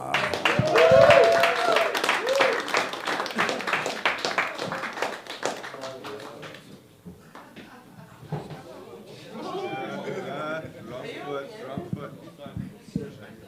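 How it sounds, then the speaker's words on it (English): Open-mic stand-up comedy audience in Hamilton applauding as a comedian takes the stage, a loud burst of dense clapping and cheers that tapers off before she starts speaking. "Please help me welcome with a big round of applause, Eva"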